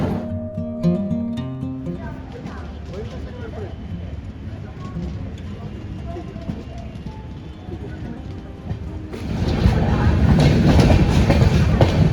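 Indian Railways intercity train at Pune station, rolling carriages rumbling and clattering steadily close by, growing louder near the end, with people talking over it.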